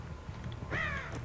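Crows caw in the horror video game Dead by Daylight, one harsh, rasping call rising and falling over quiet game ambience, fairly close and alone.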